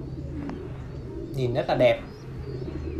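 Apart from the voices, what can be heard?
Thai Titan meat pigeons cooing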